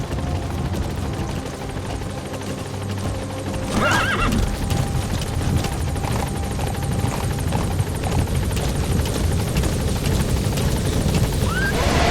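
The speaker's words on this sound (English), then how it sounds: "Support helicopter has arrived." A helicopter's steady rotor thrum in Metal Gear Solid V: The Phantom Pain, mixed with game noise, a horse's whinny and scattered clattering effects.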